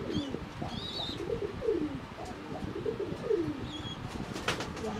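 Healthy Johnson-breed pigeons and their young coo repeatedly in a loft, with low throaty phrases, a few higher chirps and a faint flutter of wings, close and alone without talk.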